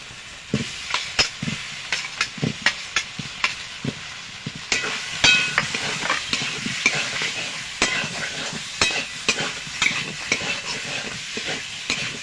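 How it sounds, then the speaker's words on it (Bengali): Potatoes sautéing in a pan of spice masala, with a steady sizzle under repeated scraping stirs of a spatula, close and moderately loud, no talking. "আলুগুলো দিয়ে আমি আর একটু কষিয়ে নেব"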